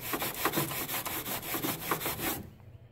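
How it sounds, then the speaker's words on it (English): Rapid back-and-forth scratching of a metal scratcher over a metal radiator, being roughed up before an epoxy crack repair, close and steady with a quick rhythmic rasp that stops abruptly near the end. "I'm going to scratch this area. You can see with this metal scratcher."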